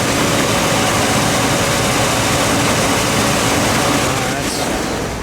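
Big V8 engine of a 1959 Cadillac Eldorado Biarritz convertible pulling hard under kick-down, a loud, steady, smooth roar that holds throughout and eases slightly near the end.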